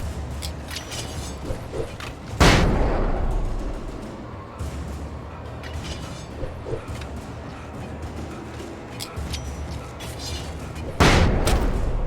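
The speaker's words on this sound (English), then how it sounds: "That flashbang should have killed him." Flashbang explosions in Alan Wake, two loud, sudden bursts several seconds apart, each with a short rumbling decay, over a low ambient background with faint scattered clicks.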